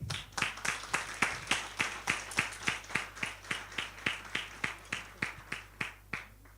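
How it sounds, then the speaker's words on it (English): Applause at a youth and women's upskilling academy graduation ceremony in St. Lucia comes as a run of evenly spaced, distinct claps over a low electrical hum, tapering off at the end. "You deserve a big round of applause"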